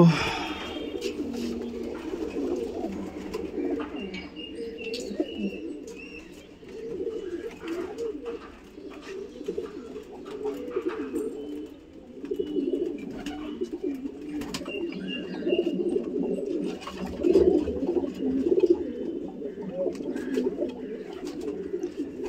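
Many pigeons in a loft coo continuously in overlapping low throaty calls, close and dense, with occasional wing flutters and small knocks, no talk.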